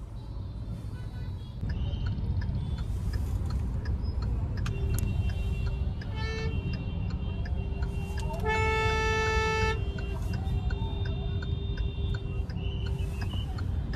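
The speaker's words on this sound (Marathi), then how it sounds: "नुसती दुनियाभरची ट्रॅफिक." Busy South Mumbai street traffic, a steady engine and road rumble throughout with several short car horn toots and one longer honk midway, no talking.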